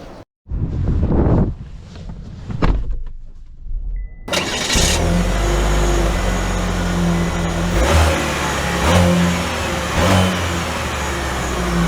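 A 2024 Chevy Blazer with a 2.0 turbo engine starts, then its mid-pitched engine revs up and pulls away, building into a steady drone with road and wind noise.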